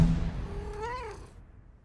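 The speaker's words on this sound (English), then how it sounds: "Now your cat's gonna meow." A cat gives a single clear meow, rising then falling, close and alone over a low background rumble in a theatre setting.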